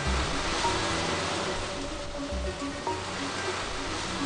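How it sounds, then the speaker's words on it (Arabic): Red Sea waves break on the Sudanese coast, a steady broad wash of surf at moderate level with low rumbling swells throughout the short stretch. "وفي الشرق تتلاطم أمواج مياه البحر الأحمر بالبر السوداني"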